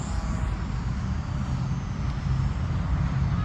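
A Vevor T28 Trojan (XK A210) RC park flyer on a 1S 800mAh lipo, its small electric motor droning steadily at a distance as the plane flies, a constant low hum with wind noise throughout.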